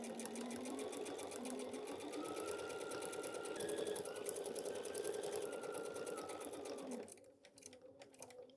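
A sewing machine stitches a quilt-as-you-go coverall seam in a fast, steady whirring run that stops near the end, leaving a few faint handling clicks; nearby and alone with no speech.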